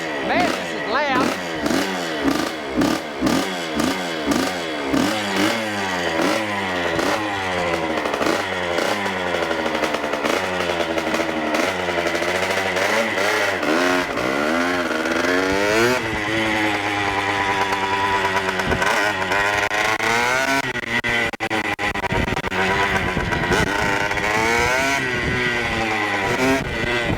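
A 1981 Suzuki RM80X motorcycle engine revs hard at full throttle, a loud, close two-stroke scream rising and falling in repeated surges, with brief voices breaking in over the noise.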